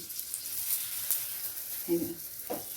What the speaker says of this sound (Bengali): এটা সেঁকে নিয়ে এর উপরে আমি এই খুন্তিতেই তেলটা ছড়িয়ে দিচ্ছি